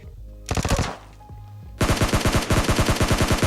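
Gunfire rattles in PUBG Mobile Lite gameplay: a quick burst of rapid shots, a short pause, then a longer sustained automatic volley, loud and close.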